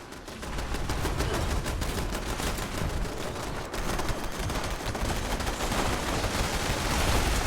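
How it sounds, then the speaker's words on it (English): Artillery firing in the Fallout 76 video game, a dense continuous rattle of rapid shots and blasts that stays loud and unbroken throughout, with no talking. "look at it doing the artillery out there"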